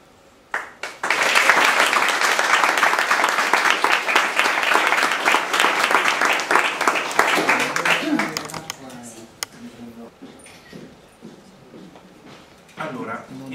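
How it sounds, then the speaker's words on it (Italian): A conference audience applauds loudly and steadily for several seconds, the clapping fading into quieter scattered claps and room noise. "vi invito ad accogliere con un grandissimo applauso Franceschetti, che ci illuminerà."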